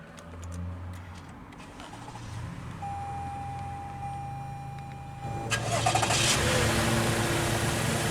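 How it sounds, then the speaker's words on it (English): A 2019 Toyota Highlander Limited Platinum AWD starts by push button: a quiet cabin hum, then the engine catches about two-thirds through and settles into a steady, fuller idle, with no talking. "Now that we're behind the wheel, let's go ahead and start it up."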